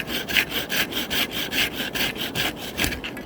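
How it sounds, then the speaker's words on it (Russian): A hand saw rasps through a wood log in steady back-and-forth strokes, about eight even pulls, close and fairly loud with no talking, ending as the saw binds in the cut. "Перепилил и пилу защемил."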